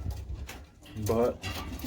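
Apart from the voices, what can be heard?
pigeons cooing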